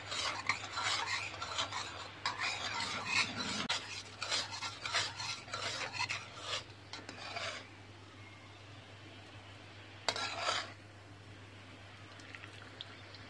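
A utensil scrapes and stirs bok choy with oyster sauce in a pan, rasping strokes in quick repeated bursts close by, then easing to a quieter sizzle with one brief scrape near the end.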